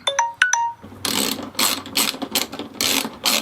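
Bolts on the LED windshield trim of a Harley-Davidson Road Glide motorcycle tightened with a hand ratchet: a few short electronic beeps, then close, rhythmic bursts of rapid ratchet clicking, no voices.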